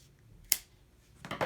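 Scissors cutting through a weapon sling strap, two crisp snips a moment apart, close and quiet in an otherwise still room.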